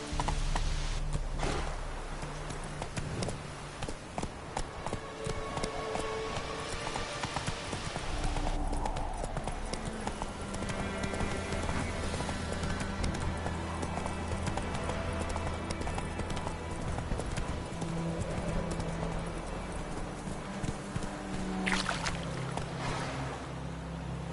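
Horse hooves clip-clop steadily at a walk in The Witcher 3, a continuous rhythmic clopping over game ambience and water-like background, heard throughout with no clear speech.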